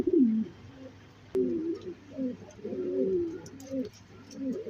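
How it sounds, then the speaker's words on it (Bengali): A pair of top-quality white racer pigeons coos in close, repeated throaty phrases with short pauses between them, alone and near. "এখন দেখা যাচ্ছে এক পেয়ার টপ কোয়ালিটি কবুতর"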